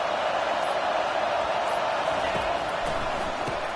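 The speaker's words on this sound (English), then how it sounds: "Decibels rising as the crowd gets behind this defense on third down." Stadium crowd in an NCAA football video game roaring on third down, a dense, steady wash of cheering noise that holds loud and unbroken throughout.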